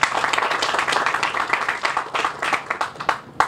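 Audience applause at an outdoor ribbon cutting for Northwood rainbow crosswalks honouring city commissioners, a close burst of many hands clapping that thins out toward the end.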